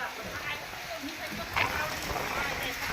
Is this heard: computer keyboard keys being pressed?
no